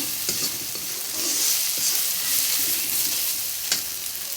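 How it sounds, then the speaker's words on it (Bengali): Spice paste for a Bengali prawn curry fries in a pan, a steady close sizzle under repeated spatula strokes and scrapes, with a sharp clink near the end and no voices. "এখন সুন্দর করে ভেজে নিচ্ছি যাতে মশলাটা কাঁচা গন্ধ না থাকে"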